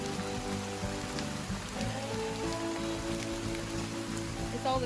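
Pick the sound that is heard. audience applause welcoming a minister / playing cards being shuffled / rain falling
rain falling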